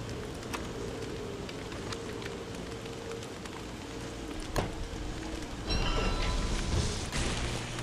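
Steady rain patters down in the survival game Don't Starve Together, a soft continuous hiss that swells louder near the end with a few brief thumps.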